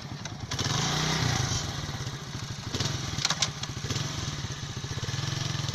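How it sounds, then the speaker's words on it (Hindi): A motorcycle engine revs nearby as the rider pulls away, a loud throaty putter that swells and dips with throttle changes, then settles into a fast steady chugging. "इन्होंने किस तरह किस महारत से बाइक चलाया।"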